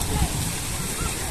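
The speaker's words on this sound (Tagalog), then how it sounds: "Ngayon medyo maalon-alon na." Sea waves wash and churn at a beach resort in a constant, close, noisy roar, with a person talking over it.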